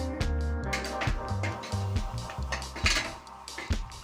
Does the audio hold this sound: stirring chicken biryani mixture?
yes